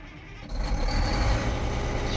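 A Cat 980M wheel loader's diesel engine catches after a brief crank, jumping to a loud, steady low rumble that holds on as the big machine idles up close.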